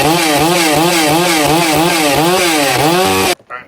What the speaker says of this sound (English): I hear you rock a bigger chainsaw.